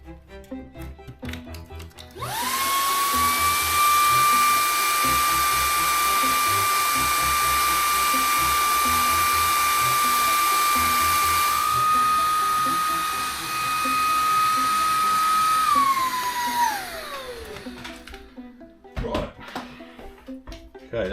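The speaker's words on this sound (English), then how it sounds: "Next, our modified Hoover." A modified Hoover vacuum cleaner, used while drilling masonry for floating shelves, switches on with a loud, steady, high motor whine for about fifteen seconds, then spins down and falls quiet.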